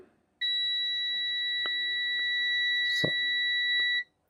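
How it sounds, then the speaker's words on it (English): A multimeter continuity test gives a steady electronic beep for about three and a half seconds, clean and continuous, with a few faint clicks and a brief word over it. "it was a solid beep"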